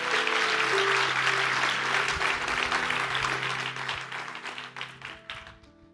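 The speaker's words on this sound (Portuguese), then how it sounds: "Dê, por favor, o melhor aplauso que você pode dar a Deus." A church congregation applauds together in a broad wash of clapping that starts full and loud, then thins and fades toward the end, with a few voices under it.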